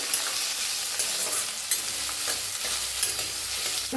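Sliced onion and fresh curry leaves stir-fried in hot oil for a moth bean usal, giving a steady close sizzle with light scraping strokes of a spoon throughout.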